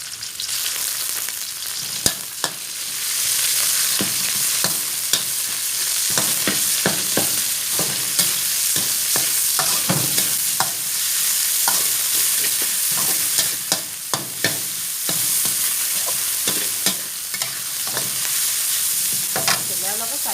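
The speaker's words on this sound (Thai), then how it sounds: "เดี๋ยวเราก็ใส่หมูไปเลยค่ะพี่อ้วนผัดใส่หมูสับนะคะ" Minced pork and chili stir-fried in a hot pan, with a steady loud sizzle throughout and repeated sharp scraping clicks of a utensil stirring and tossing the meat.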